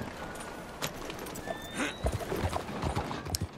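Horse hooves clip-clop in the Red Dead Redemption 2 video game, a close, irregular run of hoof strikes over a steady outdoor ambience, with a brief whinny-like tone in the middle.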